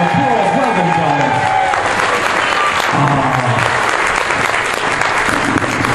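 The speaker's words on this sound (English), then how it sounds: "Give it a round of applause" A crowd claps loudly and steadily for children taking their bow, with dense applause filling the room for several seconds and a few voices and cheers mixed in underneath.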